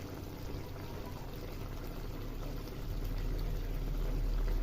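Water pours steadily into a pot of chicken in a continuous broad rush, slightly louder toward the end, close by with no talking.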